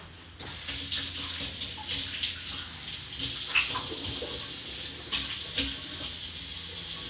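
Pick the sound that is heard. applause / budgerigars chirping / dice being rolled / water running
water running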